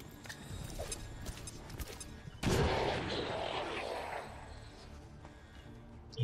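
A frag grenade detonates in XCOM 2, a sudden loud burst followed by a rumbling, crackling blast that fades slowly over several seconds, with faint game ambience before it.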